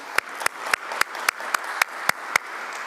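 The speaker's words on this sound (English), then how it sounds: "so maybe just a round of applause for them" Audience at a book presentation clapping in a steady, evenly spaced rhythm, about nine sharp claps close by with no talking over them.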